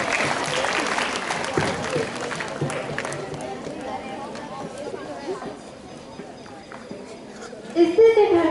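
Applause from an audience at a school farewell function for the principal and manager of St. Paul's School, Udaipur, strong at first and thinning out, with crowd noise and voices mixed in.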